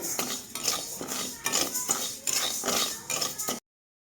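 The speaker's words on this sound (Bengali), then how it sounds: "চালটাকে তো সুন্দর করে আমি ভেজে নেব" Rice dry-roasts in a pan for sandesh, with repeated close metallic scraping and clinking of a utensil against the pan in short bursts before it stops abruptly.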